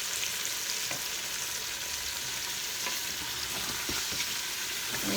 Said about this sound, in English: I'm going to get that all mixed in because we want to get those bits off the base of our pan.